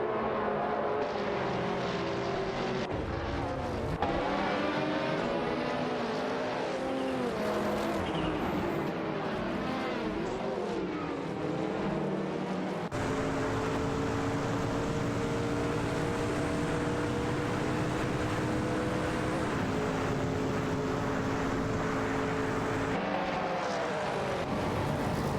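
Engines of Lotus race cars in a racing video game roar continuously as they duel for position, with sustained whining tones rising and shifting in pitch through gear changes, loud and steady throughout.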